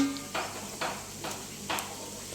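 Chicken skin frying at a Thai street vendor's stall: a steady sizzle with four evenly spaced scraping bursts of a utensil stirring through the oil, moderately near.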